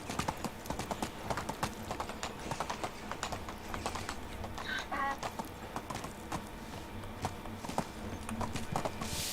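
Donkey hooves clip-clop steadily in the medieval game world, a quick, even rhythm of close, crisp knocks that runs the whole way through, alone with no talk over it.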